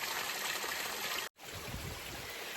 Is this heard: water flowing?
yes